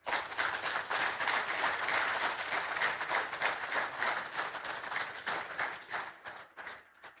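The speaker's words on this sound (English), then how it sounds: "Please, let's keep the applause rolling." Applause at a World Hydrography Day award ceremony honoring a naval admiral, a dense crowd of clapping hands that holds steady for several seconds and then thins and fades out.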